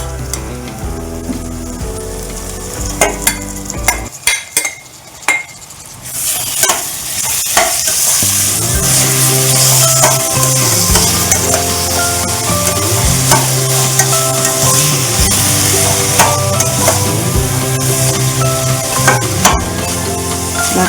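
Boneless fish pudi stirred and frying in a pan with chili powder, salt and garam masala, a loud steady sizzle with repeated scraping and clinks of the spoon, close up.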